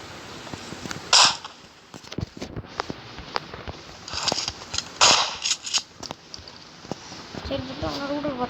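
Video game gunfire, a few sharp shots and snappy cracks spaced over several seconds, with a person talking throughout and in-game effects in the background.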